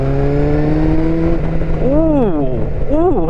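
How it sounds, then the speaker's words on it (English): A motorbike with a detuned Fireblade engine and sporty exhaust idles steadily, then gives two sharp revs that rise and fall, loud and close. "Now, Nick was saying that it's the same engine in this as it goes in the Fireblade, but this is detuned."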